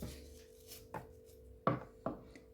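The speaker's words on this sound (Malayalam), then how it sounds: "ഇങ്ങനെ അരിഞ്ഞരിഞ്ഞ് എടുക്കാം" A knife slicing through snake gourd on a board gives a few separate, sharp chopping taps, fairly quiet and close, over a low steady background hum.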